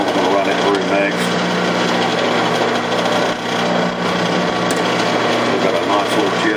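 A reamer a thousandth over a quarter inch is run through a rifle barrel on a turning lathe, giving a steady, dense grinding whir with faint ratcheting texture throughout, loud and close.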